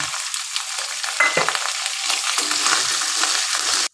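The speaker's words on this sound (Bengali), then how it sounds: "ক্যাপসিকামটা দিয়ে দিলাম, আর টমেটোটা দিয়ে দিলাম, দিয়ে একটু ভাজা ভাজা করব" Capsicum and tomato fry with cumin and ginger paste in a pan for navratan korma, making a loud, continuous sizzle with a few stirring scrapes.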